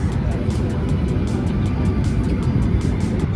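Inside the cabin of a Qantas Boeing 737-800 airliner as it starts to move, a steady loud broadband roar persists with a faint rhythmic ticking, and a voice speaks over it.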